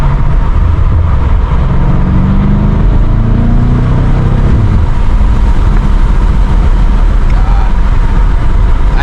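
A BMW M5 Competition drives through a late-night cruise in M mode, its engine a loud, continuous low rumble that swells and eases slightly with throttle inside the cabin.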